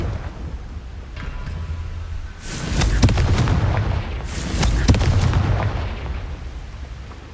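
Confringo spell blasts go off in the Hogwarts Legacy video game, loud booming impacts with sharp cracks and rolling rumble, arriving in two heavy waves over a steady background roar.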